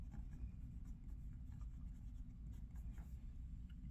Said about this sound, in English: This pen writes wonderfully.